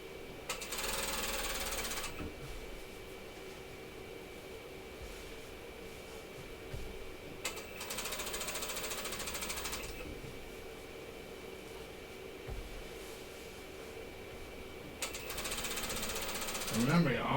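A sewing machine top stitches a bathing suit in three bursts of rapid, buzzing needle action separated by quieter pauses, fairly close and clear.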